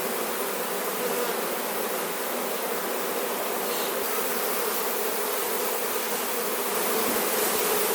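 Honey bees swarm around an opened hive, a dense, steady buzzing drone that stays loud and close throughout with no talking.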